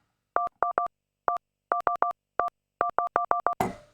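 A quick series of touch-tone dialing beeps, short two-tone pulses in irregular bursts, clear and isolated, ending in a brief noisy rustle.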